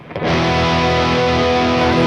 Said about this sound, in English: Gritty, overdriven tone.